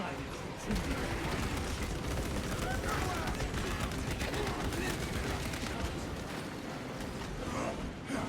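Gunfire in the video game Space Marine 2, dense continuous rapid shots and mechanical clatter filling the whole stretch at a fairly even level, with a voice speaking over part of it.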